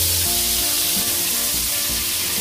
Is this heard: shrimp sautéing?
yes